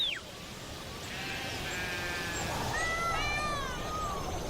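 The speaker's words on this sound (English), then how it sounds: "The goat herder moves his flock on." Goats in a herder's flock being moved along in an Indian desert bleat in several overlapping wavering cries, some near and some farther off, over a steady low background rumble.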